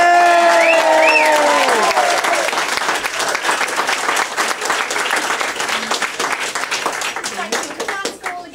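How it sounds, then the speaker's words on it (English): Guests at a civil partnership ceremony break into loud, sustained applause after a raised voice at the start. Many hands clap densely and close for several seconds before the clapping thins out toward the end. "Should we give them a big round of applause?"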